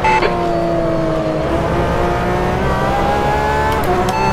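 A Porsche 911 RSR GTE engine screams at Portimao in the rFactor 2 racing game, a loud, sustained high-revving note that climbs steadily through the gear with a faint squeal near the end.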